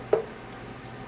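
A single knock of a hand on a whole watermelon, held up and rapped at a farm market, lands as one short, close tap that fades quickly into quiet.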